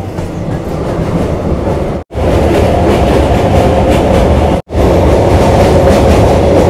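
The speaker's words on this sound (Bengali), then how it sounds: "এই ট্রেন কিন্তু শিয়ালদা, নৈহাটি, ব্যান্ডেল, বর্ধমান হয়ে বোলপুর ঢুকবে।" A passenger train runs at speed along the line to Bolpur, giving a loud, continuous rumble and rattle from inside the coach. The roar breaks off twice for a moment. No one speaks.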